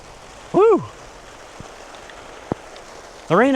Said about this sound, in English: Well, you can hear the rain coming down now.